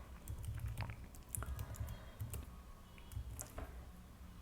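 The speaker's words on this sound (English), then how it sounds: "I will type in my following password." A password goes in on a computer keyboard as a quick, irregular run of soft, close key clicks, with brief pauses between bursts over a low background hum.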